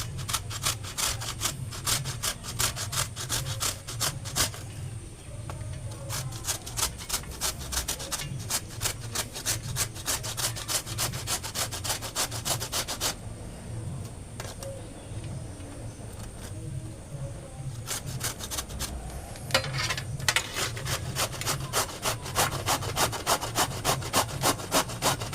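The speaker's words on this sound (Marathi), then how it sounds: "आपण आता किसणीने किसून घेऊ." Bottle gourd is grated on a hand grater in a kitchen, making close, steady rasping strokes in a quick repeating rhythm that pause briefly before starting again.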